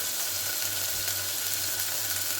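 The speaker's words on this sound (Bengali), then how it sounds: "পেঁয়াজ বাটাটা নেড়ে চেড়ে হালকা ভেজে নেব।" Onion paste sizzles and fries in a pan, a steady close hiss with faint stirring, continuous and even throughout.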